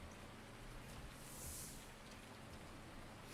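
Rain in the Farming Simulator 19 video game, a dense, even hiss of falling drops that runs steadily throughout without pauses.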